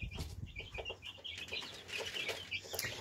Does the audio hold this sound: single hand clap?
no